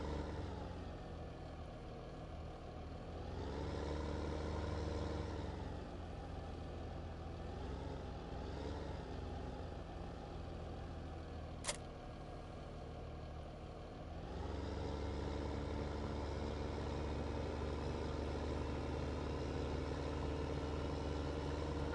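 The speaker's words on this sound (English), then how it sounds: "that this tractor will be okay on this incline up here." Tractor engine in Farming Simulator 2015 holding a steady low idle, then pulling and labouring as it drives up an incline, loud and continuous with a single brief click near the middle.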